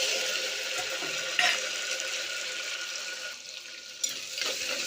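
Tomatoes with curry leaves, mustard seeds and fenugreek frying in a pan for an anchovy fish curry, a soft continuous sizzle with a couple of faint stirring knocks, no voices.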